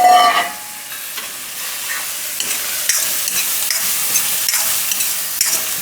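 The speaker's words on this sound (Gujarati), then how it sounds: "થોડીક વાર મકાઈને આમાં પાકવા દેવું, 1 થી 2 મિનિટ માટે" Corn cooks in a hot pan for a Maggi noodle dish, giving a steady close sizzle broken by scattered spatula scrapes and clicks, with no voices.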